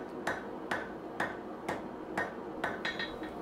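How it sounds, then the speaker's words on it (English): Hammer blows on steel over an anvil, forging a knife tang, ring out one after another, about eight sharp strikes at a steady pace, each with a brief bright ring, fairly quiet and distant. "I'll just whack away, tapering the tang away from the blade."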